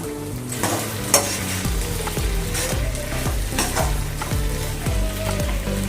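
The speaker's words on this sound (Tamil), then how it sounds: "ரெண்டுத்தையும் ஆட் பண்ணி நல்லா ஒரு மிக்ஸ் பண்ணிக்கலாம்" Chilli chicken being mixed with tomato sauce in a frying pan, repeated scraping spatula strokes over a steady close sizzle and frying hiss.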